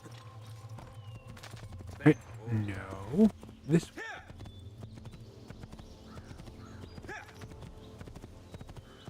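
Horse hooves clip-clop in a few quick bursts with a whinny in Assassin's Creed 2, while someone speaks briefly over the sounds.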